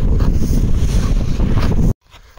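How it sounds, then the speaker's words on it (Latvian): Wind buffets the microphone on a frozen winter day around minus seven degrees while skating outdoors, a loud, rough rush that holds steady and then drops away abruptly near the end. "Vējš."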